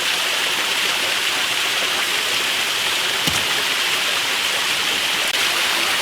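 A waterfall right behind a workshop gives a steady, dense roar of rushing water, constant and fairly loud throughout, with a couple of faint clicks underneath.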